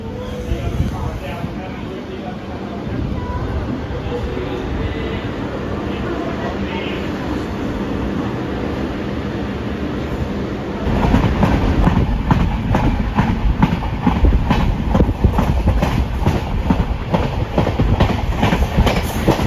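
The Mettupalayam–Tirunelveli special express, running via Palani and Pollachi, rolls along the rails at speed with a loud, continuous rumble. Rhythmic clickety-clack from the wheels grows stronger and denser partway through, heard from on board.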